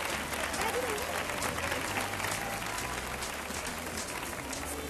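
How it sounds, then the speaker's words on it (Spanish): A television studio audience on the 1983 Spanish game show Un, dos, tres applauds steadily in a dense, even wash of clapping, with crowd noise underneath. It stays fairly distant and moderate in level throughout. "un aplauso para la chica que encontró la naranja."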